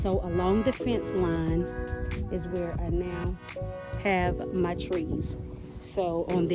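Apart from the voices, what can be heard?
None of the usual background noises is heard.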